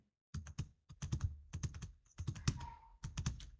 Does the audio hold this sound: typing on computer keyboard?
yes